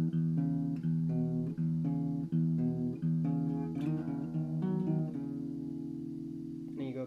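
A guitar plays the second part of a simple riff from a song, with a quick run of picked notes that settle into a sustained ringing tone, played alone and close.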